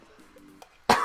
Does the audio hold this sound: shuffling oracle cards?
no